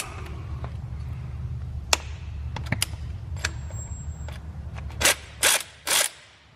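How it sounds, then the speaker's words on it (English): Wrench loosening the fuel pressure regulator on the fuel rail of a turbo B-series swapped EF Honda Civic sedan: a handful of sharp ratchet clicks and metallic ticks, then three louder hissing bursts near the end. "loosening up that regulator to relieve the pressure in the rail"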